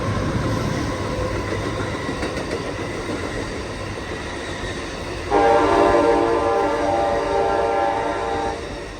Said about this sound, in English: Look at that train. That train is going to Seattle.